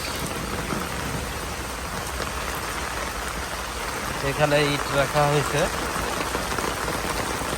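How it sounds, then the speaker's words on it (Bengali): Steady rain falls on muddy ground at a remote riverside char settlement, where rainwater has pooled and is flowing across the land, making a continuous broadband hiss throughout as someone speaks briefly near the middle. "দেখেন বৃষ্টির পানি একদম জমে গেছে জমে একাকার"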